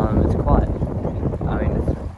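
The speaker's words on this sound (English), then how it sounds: "It's a bit windy, a bit chilly here." Gusty wind buffets the microphone on a chilly, sandy beach at St Kilda, a steady broad rumble with rising and falling surges throughout.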